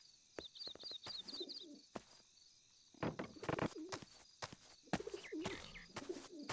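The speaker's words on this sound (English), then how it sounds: "Yeah, these pigeons gotta go" Pigeons coo in repeated soft, throaty rolls amid a busy game soundscape in Hitman 2: Silent Assassin, with sharp clicks and bursts of other game noise cutting in between the calls.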